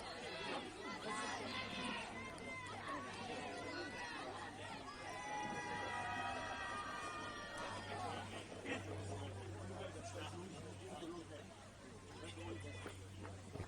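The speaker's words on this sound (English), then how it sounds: "Crowd enjoying themselves up on the bleachers." Spectators on the bleachers at a men's football match between Altitude FC and Harbourside FC chatter in a steady, continuous babble of many voices, with occasional shouts over a low constant hum.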